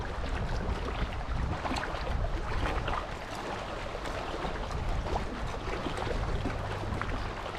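Steady wind gusts across an open lake in the Boundary Waters during a solo canoe trip, a dense continuous rush with faint lapping and no voices.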